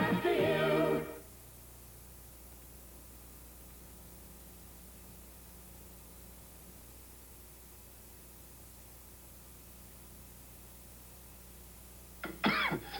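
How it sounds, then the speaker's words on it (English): A cough from an irritated throat with a cold, one short harsh burst at the very start, then a long stretch of quiet hiss before another brief rough sound at the end. "And a cough from this irritated throat and cold"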